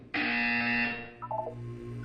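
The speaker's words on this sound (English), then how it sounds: "When you hear the buzzer, look up at the ceiling." A buzzer in the video game Portal 2 sounds once, a loud sustained electronic tone lasting under a second, followed by a brief fainter series of chiming blips over a low steady hum.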